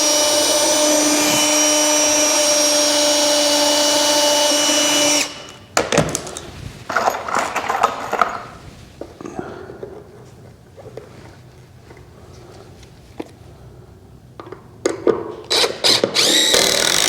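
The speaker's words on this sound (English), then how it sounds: "Drill some pilot holes." A power drill whines steadily and loudly for about five seconds while boring pilot holes in the boards of an 8x8 wooden deer stand. It stops abruptly and is followed by scattered clatter and handling noises.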